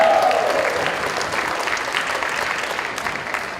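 Audience applause at a San Diego press club gathering as new board members are introduced, a dense, steady wash of clapping that fades slightly toward the end.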